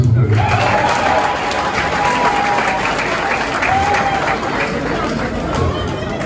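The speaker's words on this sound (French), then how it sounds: "Applaudissez pour nous, s'il vous plaît." Wedding reception guests applauding loudly, a dense continuous roar of clapping from a large crowd with some cheering and chatter mixed in, sustained and close.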